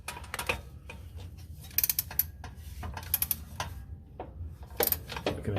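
A socket wrench on a long extension with an elbow works the differential fill plug loose on a 2008 Toyota Highlander. Sharp ratchet clicks and metallic clanks come in irregular clusters, close by, over a steady low rumble.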